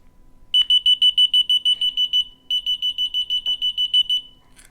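A shrill electronic beeper chirps in two rapid bursts of about a dozen evenly spaced beeps each, loud and close, with a brief pause between bursts.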